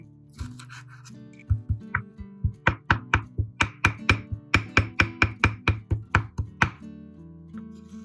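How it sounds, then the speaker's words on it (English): A knife chops banana peel into small pieces on a board, a rapid run of about twenty crisp, close knocks in a quick steady rhythm, heard alone. "take the banana peel and use a knife to cut it into small pieces"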